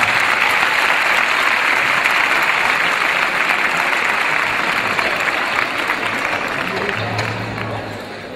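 A loud, dense ovation from the audience at a flamenco show, many hands clapping steadily for several seconds before slowly easing off, with no talking over it.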